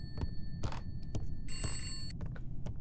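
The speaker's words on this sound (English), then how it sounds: "Is that the phone upstairs?" Telephone ringing upstairs in an indie horror video game, a repeated bell tone with steady harmonics heard in bursts over a low rumbling background, moderately distant.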